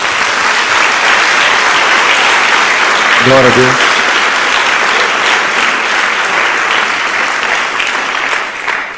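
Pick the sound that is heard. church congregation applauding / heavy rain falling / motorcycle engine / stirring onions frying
church congregation applauding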